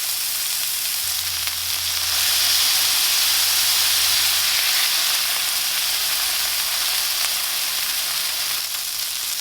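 A smash burger patty and bread fry on a hot griddle, giving a loud, steady sizzle and hiss that swells slightly and holds for several seconds, close up with no talk.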